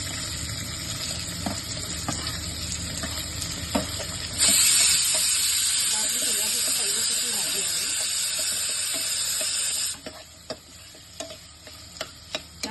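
Chopped onion tipped into hot oil with golden garlic and asafoetida for a Malvani whole masoor amti bursts into a loud, steady sizzle that holds for several seconds, then drops back to quieter frying with light clinks of stirring.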